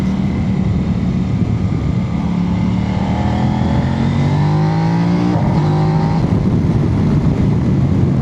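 A Kove 800X GT motorcycle accelerates in third gear through curves on a damp road, its engine and exhaust rising in pitch, then briefly dipping at a gear change before climbing again, loud and close throughout.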